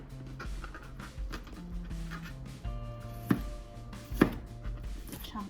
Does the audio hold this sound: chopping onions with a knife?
yes